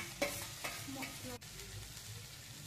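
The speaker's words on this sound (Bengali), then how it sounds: "এরপর আমরা যে ভেজে রাখা সবজিগুলো এই টমেটোর মধ্যে দিয়ে দেব, দিয়ে আবার এটাকে ভালো করে নেড়ে নেব" Fried vegetables being stirred into softened cooked tomatoes in a pan, with a few scraping stirs near the start over a steady low sizzle, no talking.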